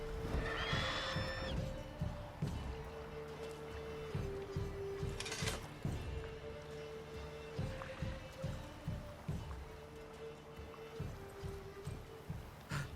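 A horse in The Witcher 3 gives one short whinny near the start, followed by rhythmic hoof clops and repeating game ambience sounds in a steady loop, with no talking.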